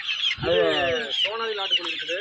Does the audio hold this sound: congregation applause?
no